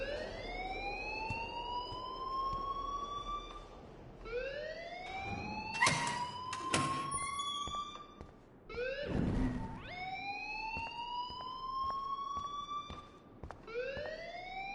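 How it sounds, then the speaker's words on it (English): Alarm siren in the Life is Strange video game wails in repeated rising sweeps at a moderate level, broken by a few sharp clanks and knocks, with no speech. "please turn off that alarm since that's your job"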